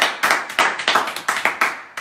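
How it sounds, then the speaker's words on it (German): A small group claps at an indoor winter-opening event, about a dozen sharp, distinct hand claps in an uneven rhythm, close and fairly loud. "Bravo, Applaus"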